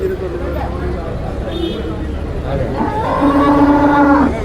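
A buffalo calf at a busy livestock market gives a drawn-out low moo near the end, with voices and general crowd noise around it throughout.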